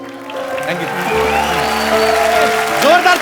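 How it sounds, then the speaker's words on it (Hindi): A studio audience at a TV comedy show breaks into applause that builds and swells while a voice and some music carry on over the clapping. "जोरदार तालियां हो जाएं"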